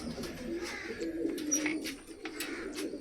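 Pigeons being fed grain in a net enclosure coo softly and continuously at low pitch, with scattered light clicks and rustles of feeding over the top.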